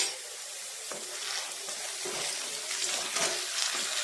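Salted potato pieces fry in a pan until browned, making a close, continuous hissing sizzle with light crackle and no voices over it.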